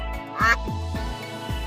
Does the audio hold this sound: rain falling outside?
no